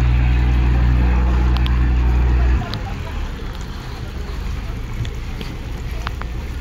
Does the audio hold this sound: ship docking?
yes